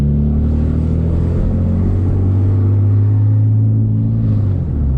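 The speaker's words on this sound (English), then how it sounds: "The car is so loud too." Nissan 370Z with headers and non-resonated test pipes, its engine a loud, steady low droning rumble held close to the microphone for several seconds with no talking.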